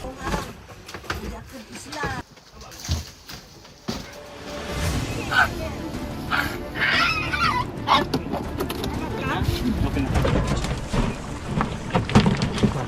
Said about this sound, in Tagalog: Ang mga asong maamo na ang naisakay pa ni Lindon sa kanyang bangka